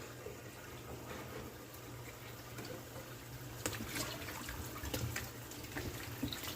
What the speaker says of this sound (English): wash them with some running water